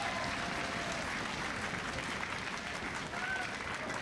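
A studio crowd at a League of Legends LCS match applauds steadily in a dense, even wash of clapping that stays at a moderate level throughout, heard from a distance.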